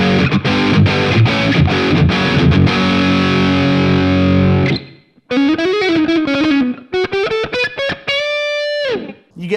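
An Epiphone electric guitar on its middle pickup position with distortion plays loud, dense strummed chords, then cuts to separate ringing single notes and short phrases with brief gaps between them.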